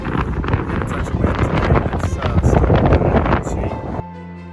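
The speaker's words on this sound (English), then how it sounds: "Yeah, that's windy." Strong storm wind gusting at Attwood Lake, a loud continuous roar with rustling and buffeting on the microphone, cutting off abruptly near the end.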